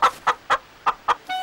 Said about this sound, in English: Mother Hen's got it!